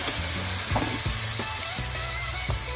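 Garlic paste and tomato puree fry in hot oil, giving a steady close sizzle while a spoon stirs the pan with several soft scraping strokes, and no one talks.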